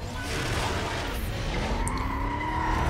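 In-game car engine from Need for Speed Most Wanted, a steady drone with a rising rev line and some tire skidding, loud and continuous throughout the racing run.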